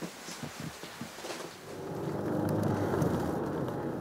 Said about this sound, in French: La météo ne s'est pas trompée. Il pleut.